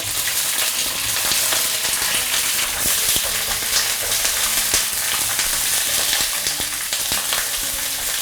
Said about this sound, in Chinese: 接着我们煎一下辣椒，不要洗锅，一样的，稍微来点底油，来煎一煎。